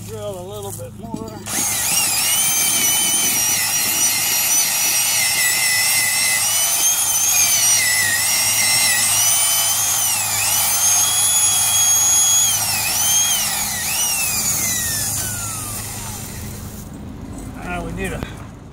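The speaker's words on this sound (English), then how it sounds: "And we can drill a little bit more." A loud power drill whines continuously for about fifteen seconds, its pitch wavering as it bites into the concrete around a rotten fence post, then winds down.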